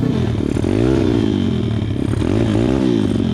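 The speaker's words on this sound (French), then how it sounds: "Le moteur, il va taper." A dirt bike motorcycle engine revs hard and continuously nearby, its pitch sweeping up and down in repeated throttle swells with a rough, rattling edge.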